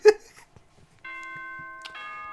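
A sustained, bright multi-tone ding-dong chime from the Danganronpa video game rings steadily after a short thump and faint noises, holding for over a second at moderate volume.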